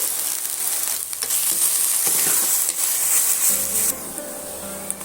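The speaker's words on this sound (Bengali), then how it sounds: "পেঁয়াজটা আমি এখানে একদম লাল লাল করে ভেজে নিয়েছি" A medium onion, chopped, frying in hot oil with a loud bright hiss and crackle that fills the whole stretch, with stirring scrapes and no talking.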